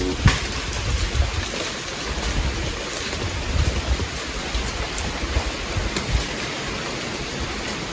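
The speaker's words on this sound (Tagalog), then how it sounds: "Lakas ng ulan guys" Heavy rain pours in a dense, steady hiss, with occasional louder splashes and drips standing out from the constant downpour.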